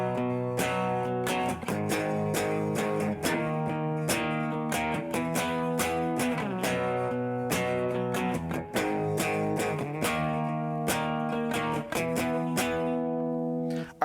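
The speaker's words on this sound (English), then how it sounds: "So the first thing we're going to do in this song is play some power chords." Distorted electric guitar playing power chords from a song, a steady strummed rhythm with sustained chords ringing continuously at close range, no voice.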